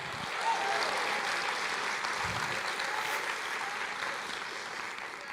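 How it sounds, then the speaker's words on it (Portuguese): A church congregation applauds the Lord during a Portuguese-language sermon, a sustained, moderately distant wash of many clapping hands. "Aplauda ao Senhor"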